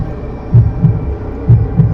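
A heartbeat effect in a horror tale, two paired low thumps that repeat at a steady pulse, loud and close, with a faint hum beneath and no voices.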